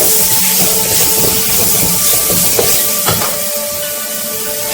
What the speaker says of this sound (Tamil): இது கொஞ்சம் நல்லா வதக்கிட்டு இதனால் வந்து அப்படியே இந்த தக்காளி ஆட் பண்ணிடலாம்